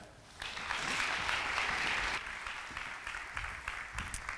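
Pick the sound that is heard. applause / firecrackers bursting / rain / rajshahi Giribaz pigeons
applause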